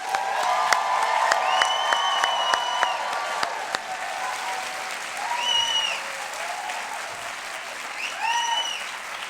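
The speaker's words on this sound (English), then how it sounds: "if you would join me in giving them a great round of applause" Audience at an education conference gives a sustained round of applause that holds steady for most of the span, with scattered whoops and cheers rising over the clapping and a brief swell of cheering near the end.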